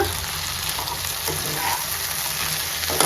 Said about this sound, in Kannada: ಕ್ರ್ಯಾಬ್ ಒಂಚೂರು ಫ್ರೈ ಆಗಲಿ.